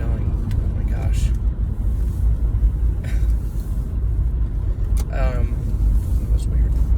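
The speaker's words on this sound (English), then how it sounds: "I was being crowded by two cars on both sides." Cars rumble past closely on both sides of the vehicle on the road, a steady loud traffic drone with brief whooshes and a short squeal near the end.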